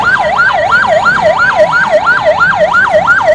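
Ambulance siren wailing in a steady, rapid up-and-down sweep, loud and close, repeating about twice per second with no speech over it.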